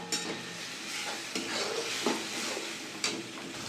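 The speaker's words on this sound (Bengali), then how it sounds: "নেড়ে নেড়ে ভালো করে শুকনো করে নেব।" Ridge gourd paste stirred and fried in a pan to dry it out: a near sizzle with repeated scraping stir strokes every second or so, heard alone without talk.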